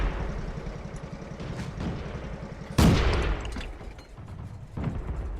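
A tank cannon fires once in World of Tanks, a sharp loud boom with a rumbling tail over the steady drone of the tank's engine, with fainter distant shots around it.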